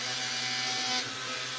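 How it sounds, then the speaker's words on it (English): A Black & Decker RTX rotary tool set to low speed spins a sanding mandrel, giving a steady high whine at moderate level that shifts slightly near the end. "this one here is a regular Pete Blair mandrel on a Black & Decker RTX set to low"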